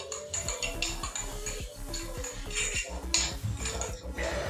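Dishes and cutlery clatter in a home kitchen as utensils are put away, with repeated close clinks and knocks over a busy background of music-like tones.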